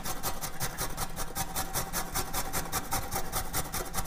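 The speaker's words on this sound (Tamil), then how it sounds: "ஸோ அப்படியே லைட்டாக கிரேட் பண்ணிடலாம்." Carrot rubbed against a hand grater, a steady rapid rasping with quick regular strokes, close and fairly loud, no voices.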